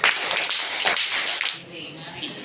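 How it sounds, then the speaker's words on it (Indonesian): A classroom of students claps for the yellow team during a group lesson, a short burst of loud uneven claps up close that thins out as voices continue underneath. "tepuk tangan untuk kuning"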